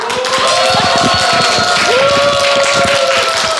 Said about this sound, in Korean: 박수를 해주시기 바랍니다